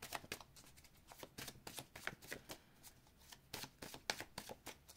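Tarot cards being shuffled by hand during a reading, a steady run of close, crisp riffling slaps in quick bursts with short pauses, no voice over them.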